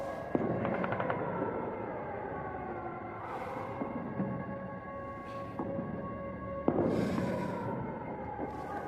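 Gunfire in the Indiana Jones and the Great Circle video game crackles in scattered bursts and single sharp shots, fairly faint and distant, over a low droning game soundscape.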